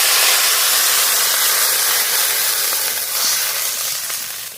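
Water poured into a pan of frying potatoes with salt and turmeric for a Bengali fish curry sets off a loud, steady steam sizzle and hiss that fades slightly toward the end.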